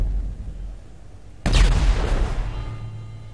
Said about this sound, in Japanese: 爆発した瞬間に、キンコンみたいな音が、右側で聞こえると思うんですよ